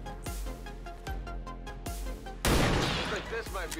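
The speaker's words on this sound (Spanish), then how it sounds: "Voy a tener que gastar un disparo de francotirador para uno de vida." Sniper rifle shot in the video game XCOM 2, a loud sudden blast midway that cuts through a steady musical score with rhythmic thumps, then a ringing tail.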